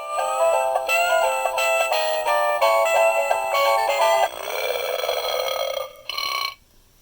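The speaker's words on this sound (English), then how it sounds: "This is supposed to be some sort of interactive game where you squeeze him and he burps." A squeezable SpongeBob Patrick toy lets out an electronic burp, a loud buzzy tonal sound in several pulsing bursts that ends in a shorter, fading croak.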